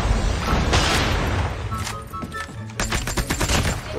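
Rapid gunfire bursts in the mobile shooter Call of Duty Mobile, loud and close, with repeated sharp volleys crowding the second half over a busy game background and talk.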